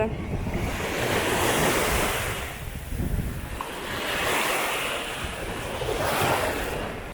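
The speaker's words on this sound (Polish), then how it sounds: "Jesteśmy teraz na plaży." Sea waves surge and break on a Baltic beach at Międzywodzie, with steady wind buffeting the microphone; the surf swells and recedes in a continuous near roar.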